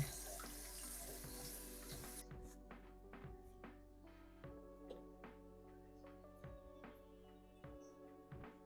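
A tap runs hard for about two seconds while a Berkey water filter is cleaned, then stops, leaving irregular drips and small thunks in a sink at close range, with no talking.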